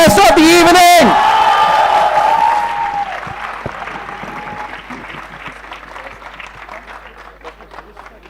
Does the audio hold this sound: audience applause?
yes